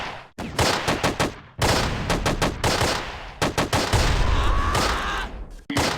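Troops fire guns in the Close Combat: Wacht am Rhein wargame, loud bursts of machine-gun and rifle fire in rapid clusters with short gaps between volleys. No voices are heard.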